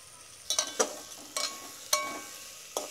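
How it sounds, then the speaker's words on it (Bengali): Spice water being stirred into a fish head curry in a pan, giving a few sharp scraping clinks at uneven intervals over a faint, steady background sizzle. "এখন আরেকটু ভালো করে মিশিয়ে নেব"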